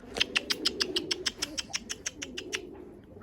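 Tumbler pigeons coo softly and steadily beneath a quick, even run of sharp clicking pulses, close by and fading near the end, with no talking.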